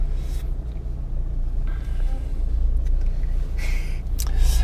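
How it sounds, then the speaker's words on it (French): A car carrying a lawnmower creeps along slowly behind a herd of Aubrac cattle on a rural road, giving a low, steady engine rumble with a few faint clatters and no talking. "on est en train de suivre un troupeau d'aubrac en voiture avec une tondeuse dessus"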